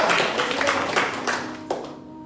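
A church congregation claps during a Christmas service, a dense round of hands that carries on for about two seconds and then stops with a final few claps, with no voices over it.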